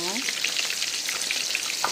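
Eggs fry in a pan with a constant crackling sizzle, close by, scattered pops over a steady hiss throughout.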